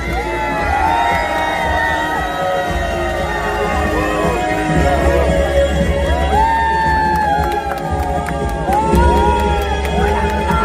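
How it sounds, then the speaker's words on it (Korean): A crowd at a political rally in the Mokpo Station plaza claps and cheers in welcome, loud and continuous, with whoops, shouts and excited chatter rising through the din. "뜨거운 환영의 박수 부탁드립니다."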